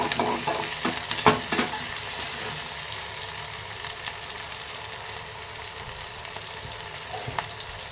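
Onion and tomato fry in a pan for a beetroot palya, giving a steady close sizzle throughout with a few brief clinks and stirring scrapes near the start and no talking.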